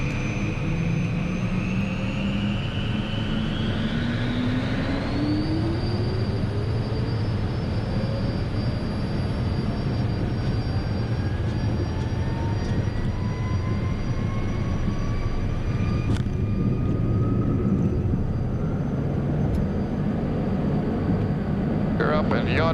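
A Cessna jet takes off from Fort Myers, heard from the cockpit: a loud, steady engine roar with whining tones that climb in pitch as it accelerates, filling the whole stretch.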